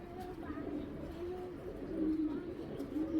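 Soft, low pigeon coos repeat in a gentle rolling rhythm, close by, against a murmur of background noise.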